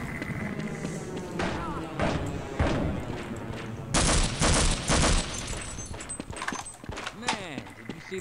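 Rapid bursts of gunfire from the Half-Life video game, sharp close shots and booming impacts in clusters, with a heavier volley midway, mixed with game effects while people talk over it.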